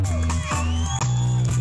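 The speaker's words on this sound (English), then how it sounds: "Give it up for the band, guys." An outdoor crowd at a Hawaiian Kingdom Independence Day celebration at Pokai Bay cheers and whoops for a band, a loud, steady roar with claps and shouts mixed together.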